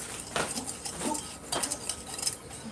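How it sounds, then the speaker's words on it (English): A spoon scrapes and clinks against a pot in short uneven strokes as cooked tamarind is stirred into pani puri filling, close and fairly quiet. "Stirring it in."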